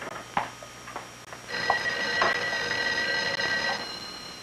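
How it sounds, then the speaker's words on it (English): An office telephone rings, a steady electronic tone with ticking, mechanical overtones that starts after a brief quiet stretch and keeps going, moderately loud and close, with no one speaking. "I think your phone is ringing."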